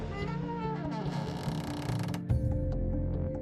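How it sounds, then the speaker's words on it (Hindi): A slow, drawn-out creak of a door swinging open, with mechanical grinding and a heavier clunk near the end. "अचानक से वो दरवाज़ा अपने आप खुल गया"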